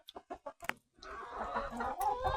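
Wet chickens at a coop in the rain give a quick series of soft close clucks, then a denser stretch of overlapping fowl calls with a low background patter.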